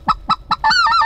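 Snow geese flying high over a morning hunting spread, honking in quick repeated calls that swell into an overlapping chorus of several birds, loud and close, with no talking.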